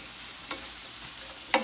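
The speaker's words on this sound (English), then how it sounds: "So we're going to let that stir fry for about 3 or 4 minutes, just until those vegetables start to get crisp tender." Vegetables stir-frying in a skillet for a broccoli and beef stir-fry, a faint steady sizzle with a couple of brief clinks of a utensil against the pan.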